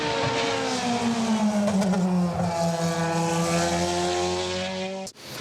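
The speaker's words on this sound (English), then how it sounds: "It's just made that Ferrari engine really bark." A Ferrari-engined open-wheel race car screams at high revs, pitch sliding gradually downward as it passes, loud and sustained, cutting off abruptly at the end.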